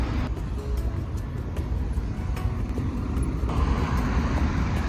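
Road traffic on a Kenyan roadway, a continuous rumbling wash of cars passing in the background, steady and moderately loud with no voices heard.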